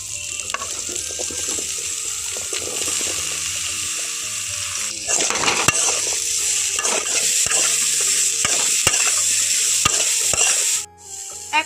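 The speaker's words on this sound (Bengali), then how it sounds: "এখানে এরকম ছোট ছোট কুচি করে আলু আর বেগুন কেটে নিয়েছি ওটা এখন এখানে দিয়ে দেব" Finely diced potato and eggplant tossed into hot oil for a Bengali chikni saag, giving a steady loud sizzle and fry with repeated scraping stir strokes that grow busier midway, no talking.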